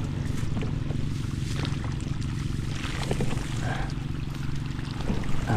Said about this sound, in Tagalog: Sila lang po ay malakas po ang ating patubig.